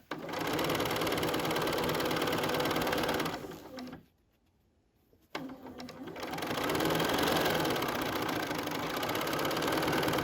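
A sewing machine stitching the gusset of a fabric tote bag, a steady close mechanical whir that runs for several seconds, stops briefly into near silence, then starts up again and continues.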